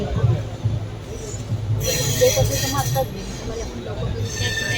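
A passenger train pulls out of Daund station bound for Pune. A steady low rumble fills the scene, with a brighter metallic hiss and faint clinks rising midway as it begins to move.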